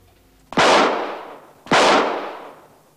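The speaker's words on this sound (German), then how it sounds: "Und dann fiel der Schuss." Two loud, sharp gunshots about a second apart, each a sudden crack followed by a decaying echo, fired during a quarrel in a 1994 German crime drama.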